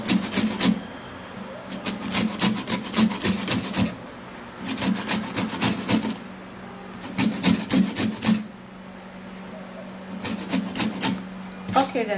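A lemon's peel is grated for zest in quick rasping strokes, arriving in rhythmic bursts separated by short pauses, close and crisp throughout.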